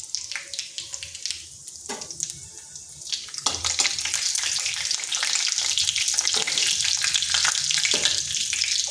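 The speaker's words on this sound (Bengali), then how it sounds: "ফোড়নে দিচ্ছি একটা তেজপাতা, একটা শুকনো লঙ্কা, আর দিচ্ছি গোটা জিরা।" A bay leaf, a dried red chili and whole cumin drop into hot white oil, starting with light clatter and then swelling into a loud, dense crackling sizzle that continues to the end.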